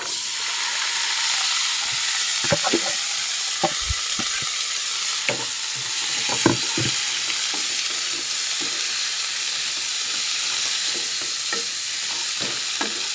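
Chopped beans with salt fry in a pan, giving a steady loud sizzle throughout. Scattered clicks and scrapes come from a spoon stirring them.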